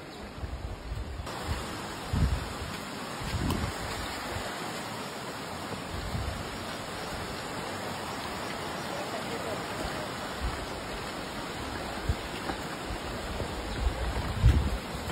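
A steady rushing roar of fast-flowing water fills the whole stretch, loud and continuous, with occasional low thumps and bumps near the microphone.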